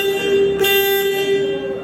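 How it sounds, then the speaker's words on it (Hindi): The horn of a 2024 KTM Duke 390 motorcycle sounds as a single steady, fairly loud beep that holds for nearly two seconds, close by and without talk. "इसका एक हॉर्न भी आपको एक बार दिखा देता हूँ"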